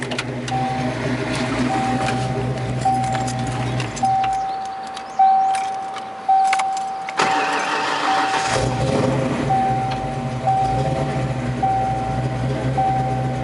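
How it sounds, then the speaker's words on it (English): A 1986 Mustang GT convertible engine idles, shuts off and cranks back to life, with an electronic warning chime beeping at a steady interval throughout. "I can shut it off and fire it up for you again if you like."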